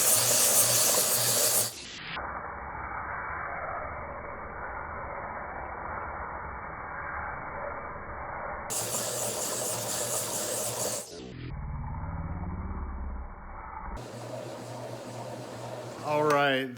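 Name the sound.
sphere polisher running on rose quartzite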